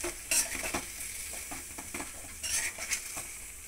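A ground paste of raw onion, tomato and coriander being stirred in a hot pan for bitter gourd sambar, giving a soft sizzle with repeated spoon scrapes and metallic clinks against the pan.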